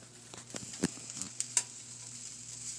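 Water in a pot on the stove for a simmer pot comes up to a boil, making a quiet, faint bubbling hiss broken by a few sharp clicks and pops.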